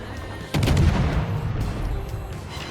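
Naval guns booming in World of Warships as the Asashio destroyer trades fire with the Z31 and Azuma, a sharp blast kicking off a dense, rumbling volley that rolls on under a low ambient din.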